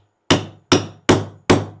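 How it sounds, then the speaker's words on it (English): Four sharp, evenly spaced hammer blows ring out on a bearing driver, seating a bearing in a utility trailer hub, each strike loud and close with a quick metallic decay and no talk. "Give me my hammer because I can hear it better with my hammer."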